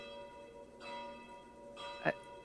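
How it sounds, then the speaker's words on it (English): A faint ringing bell, heard as soft repeated tolls that hang in the air, with a sharper strike near the end and no one talking over it. "that's more of like an alarm bell"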